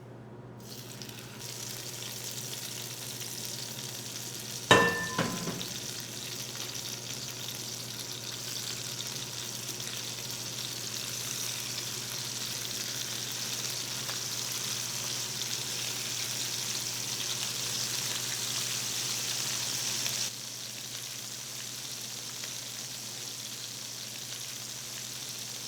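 Chicken breast laid smooth side down into a hot, oiled pan sears with a steady, moderate hiss after a sharp initial contact sizzle, holding constant for about fifteen seconds before easing off, no voices.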